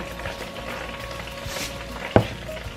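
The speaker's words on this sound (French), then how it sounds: "et je mélange" Seasoned Djerbian rice with spices, salt and pepper is stirred in a cooking pan, giving a soft, steady sizzle with one sharp scrape or clack of the spoon near the end.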